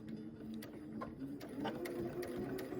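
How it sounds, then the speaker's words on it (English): Sewing machine stitching the tip of a quilt triangle, a steady close mechanical whir with faint ticking clicks, quiet and continuous throughout. "I am making sure that my needle is going to hit where that X is formed at the tip of the triangle."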